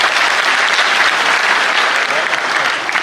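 Loud, sustained applause from the audience at a Hindi hasya kavi sammelan, a thick continuous roar of many hands clapping close by, steady throughout and easing only slightly at the end.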